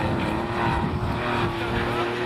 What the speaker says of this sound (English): that distinctive Porsche engine note, the tail wagging on the slippery opening tests